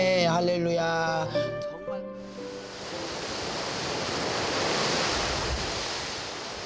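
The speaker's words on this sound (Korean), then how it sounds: "파도가 심상치 않습니다." Rough sea waves surge and crash in a loud, broad, rolling roar with wind noise, following a few seconds of music at the start.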